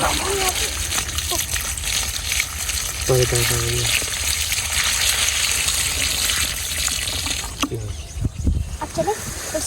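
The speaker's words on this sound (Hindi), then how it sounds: "पानी डालते हैं और बिस्मिल्लाह।" Water is poured onto a newly planted jamun sapling in soil, giving a steady gushing splash at close range while people talk over it.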